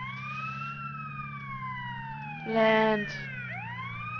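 Wailing ambulance siren in GTA San Andreas, a steady electronic tone sweeping slowly downward with a brief louder warbling burst near the end, heard under a running engine hum while a person speaks briefly.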